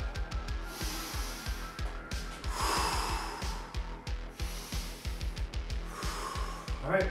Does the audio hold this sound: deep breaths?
yes